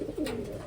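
A pigeon coos softly in a short, low call amid steady background noise, part of a batch of newly arrived Taiwan pigeons.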